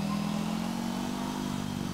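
A motorcycle engine in GTA IV runs at a steady, droning mid-pitched hum, close and loud, with no voices over it.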